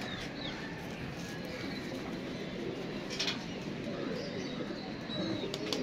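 Pigeons coo softly close by, with a few chirps and brief flutters over a steady background hum.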